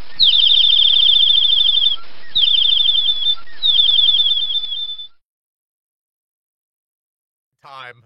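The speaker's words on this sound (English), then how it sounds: "Every time I hear the Tweety bird, I laugh when I hear the raptor." Cartoon-style bird sound effects: three bursts of rapid high chirping tweets, loud and close, over roughly five seconds, then silence and a short downward squawk at the end.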